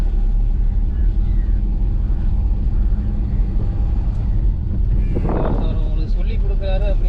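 Car engine running steadily inside a cabin on a village road, with a low droning rumble and wind noise, a brief rising surge near the end as the driver shifts up into third gear around 15 km/h; someone talks throughout.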